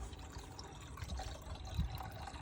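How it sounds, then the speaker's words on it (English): Deionized water being poured into the coolant system of a Mazda Bongo, a quiet, steady trickling pour with a soft gurgle partway through. "we're going to put the water in first"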